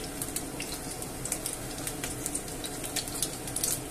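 Meatballs browning in hot oil in a pan, giving a continuous close sizzle dotted with frequent sharp spitting pops throughout.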